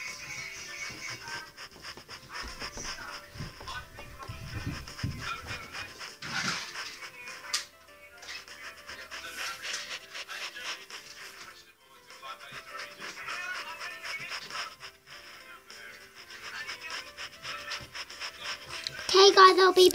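A puppy pants rapidly and continuously up close, with occasional soft whimpers, while a person talks intermittently in the background.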